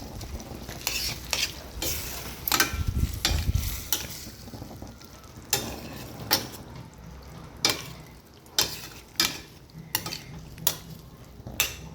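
Ackee and saltfish seasoning being mixed with a spoon, a series of sharp scraping clinks against the bowl, with a brief rumbling burst early on, close and moderately loud, with no talking.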